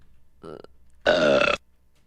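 A cartoon burp: a short throaty belch, then a longer, louder, tonal burp lasting about half a second, close and clear with quiet around it.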